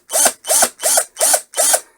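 The brushed motor of an Aldi Ferrex cordless drill whirs in five short, loud, evenly spaced bursts, each a rising and falling high-pitched whine with a rough mechanical edge, heard alone at close range.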